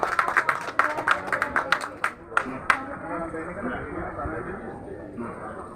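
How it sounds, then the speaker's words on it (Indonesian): An audience applauds at an industrial plant groundbreaking ceremony, a burst of close, crisp claps that fades after a few seconds into a murmuring crowd and outdoor ambience. "Tepuk tangannya Bapak Ibu."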